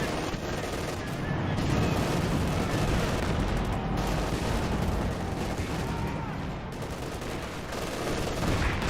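A light artillery barrage in Company of Heroes 2 roars continuously, a thick, unbroken wash of booming blasts and crackling fire that stays loud throughout with little letup.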